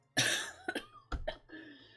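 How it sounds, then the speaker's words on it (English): Several harsh coughs close to the listener, coming in quick bursts with short pauses between them. "I can't stop coughing."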